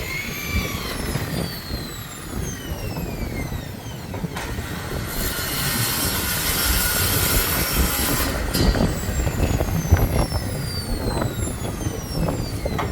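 A sliding door rolling along its track, giving off a sustained machine-like rumble with high whistling tones that swell in the middle, steady and fairly loud throughout.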